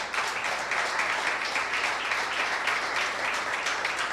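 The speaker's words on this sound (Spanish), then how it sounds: "Denle un aplauso fuerte al Señor" A church congregation gives a strong round of applause during a service, a steady, even wash of clapping from many hands that holds at moderate loudness without a break.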